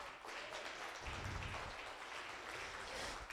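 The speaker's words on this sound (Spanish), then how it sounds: "dale un aplauso fuerte" Crowd applause at a church service, a dense, steady patter of many hands clapping at once, sustained throughout at moderate volume.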